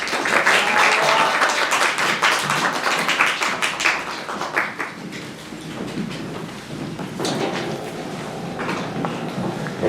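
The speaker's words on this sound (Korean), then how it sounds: "고생하신, 수고해주신 배우님들께 큰 박수 보내주시고요." Audience at a press conference for a stage production in Daehangno, Seoul claps for the actors, a steady wash of applause with individual hand claps audible, loud and close throughout with no talking.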